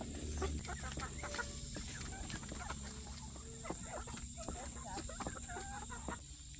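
A rooster and hens cluck and call repeatedly in a farmyard in the morning, close and fairly faint over a steady background hum, with soft voices at times.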